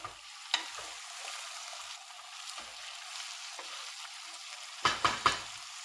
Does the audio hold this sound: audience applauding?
no